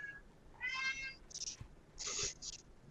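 A cat meows outdoors as a sound effect in a tabletop role-playing game set in dark woods with feral cats: several clear, fairly close meows in separate bursts over quiet background hiss.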